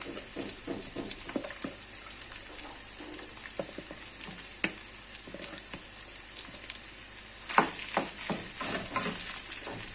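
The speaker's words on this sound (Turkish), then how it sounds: "şimdi çatalla ezmiş olduğum patateslerimi tavamın içerine, içerisine koyuyorum." Mashed potatoes cook in a pan with a soft, continuous sizzle, broken by irregular scraping and stirring clicks from a utensil, fairly quiet and close with no talking.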